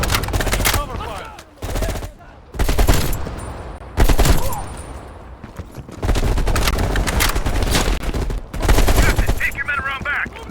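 Covering gunfire in the Call of Duty Black Ops Cold War video game, loud bursts of automatic fire in several separate volleys with short gaps between, near and sharp, with faint voices underneath.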